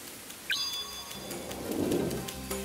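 Steady rain hiss with a low rumble of thunder swelling midway through a stormy night scene in the video game Bakeru, with a short high chirp early on.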